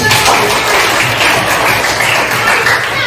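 Students clapping in a classroom after a classmate answers a math question, a steady, loud wash of applause filling the room with no one speaking.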